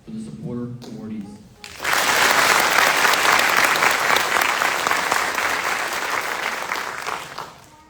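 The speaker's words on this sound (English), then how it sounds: "Please join me in a round of applause for the supporter awardees." A graduation ceremony crowd applauds the supporter award recipients. A brief spoken announcement comes first, then loud, sustained clapping swells up and fades near the end.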